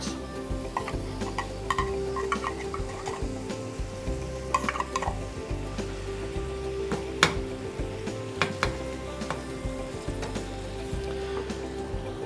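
Venison bolognese sauce gently sizzling and bubbling in a pot, a steady low simmer with occasional stirring clinks, close and moderately quiet throughout.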